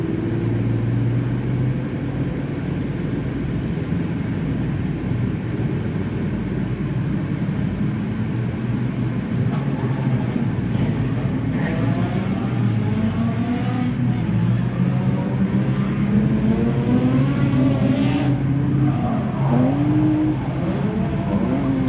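Drift cars at a Pro Light class drifting competition roar past, engines revving and wailing in rising and falling pitch, loud and continuous, with no voices.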